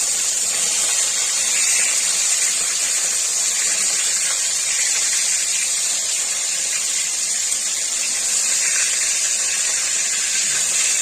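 Fish sizzling as it fries in hot oil in a pan, a steady, close, bright crackling hiss that holds at an even level throughout with no voices.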